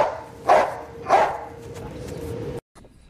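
A military working dog at an air base in Agadez, Niger, lets out two loud close barks about half a second apart, then a steady background hum holds before a sudden cutoff.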